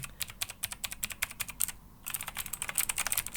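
Rapid clicky keystrokes from an OKER K96 mechanical keyboard with blue switches, steady typing with a brief pause midway, close and crisp.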